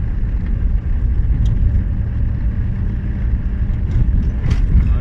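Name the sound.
manual car engine driving in fourth gear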